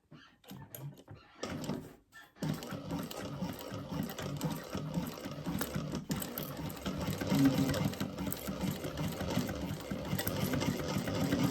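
Sewing machine stitching a wide seam on a crossbody bag with lining pieces clipped right sides together, running steadily and close for about nine seconds after a few brief starts, with a quiet voice underneath.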